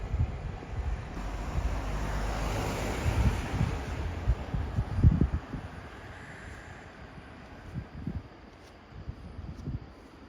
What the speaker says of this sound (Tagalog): Napakalamig ng hangin.